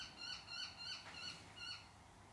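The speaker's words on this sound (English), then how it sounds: "The birds disagree with me." Owl hooting outdoors in a slow, repeated series of about five soft calls, faint and fairly distant, with no voices over it.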